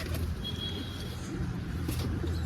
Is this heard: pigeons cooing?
yes